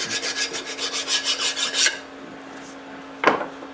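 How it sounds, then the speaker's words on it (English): A hand file rasps back and forth across a homemade overhead-valve Briggs engine part, knocking down burrs in a dozen quick, even strokes, close up, then stops, followed by one final short scrape. "I'm just knocking down any burrs and making this uh, as flat as possible."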